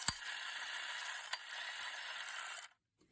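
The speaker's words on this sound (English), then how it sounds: "What I do like about these older toys is that they actually use metal gears instead of plastic." An old toy with metal gears runs after a spray of WD-40 lubricant, giving a steady whirring, ratcheting mechanical buzz with a couple of sharp clicks before it stops abruptly, close up and alone.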